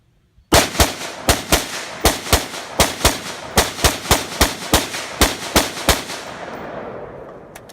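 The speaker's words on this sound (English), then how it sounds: "See how many seconds or how long it takes for me to empty this mag into the silhouette target." An assault rifle firing about 450 rounds per minute empties its magazine into a silhouette target: roughly sixteen loud, sharp shots in an even, rapid rhythm, each with a short echo, then a fading ring after the last round.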